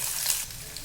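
Onion dropped into hot oil with tempering spices in a pan, a short burst of bright hissing sizzle that eases slightly.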